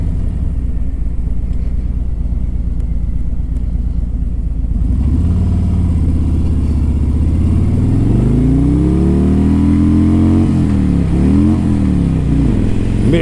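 A 2017 Harley-Davidson Road King Special engine loudly idling with a deep, throbbing rumble, then revving up and accelerating in several rising and falling surges, close and dominant throughout.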